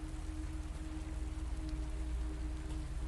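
Steady rain falls in a dense, even hiss with no breaks, accompanied by a low constant hum.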